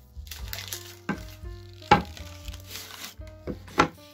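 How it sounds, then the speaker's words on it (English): Semi-sweet chocolate candy bars being chopped into pieces with a knife on a board, about six sharp, uneven chops with softer cutting scrapes between them, close and clear. "chop it into pieces so that it will be easy to melt it"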